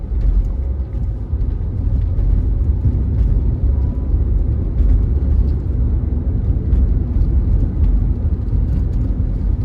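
A car pulls away from a green light during a road test, its steady low engine rumble and road noise continuous and fairly loud from inside the cabin, with no talking.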